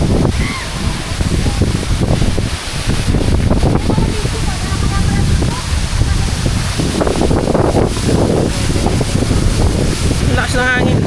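Strong wind roars and buffets the microphone near Hulugan or Taytay Falls in Laguna, loud and continuous, mixed with rushing water and occasional voices underneath.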